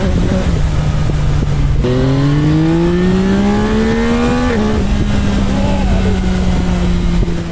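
A 2025 Yamaha MT-09 Y-AMT automatic motorcycle in sport mode revs hard and climbs in pitch, dips as it shifts gear, then pulls steadily on at high speed, loud and close with constant wind noise.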